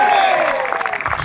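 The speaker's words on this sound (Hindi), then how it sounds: "ताली बजा के आमीन बोलिए" Congregation clapping at a Christian youth revival service, a dense burst of applause filling the hall with voices mixed in.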